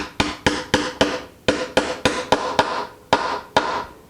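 Repeated hammer taps drive a small part into a 1964 ES 335 guitar replica during assembly, about a dozen sharp, close knocks in a steady, slightly uneven rhythm with brief pauses.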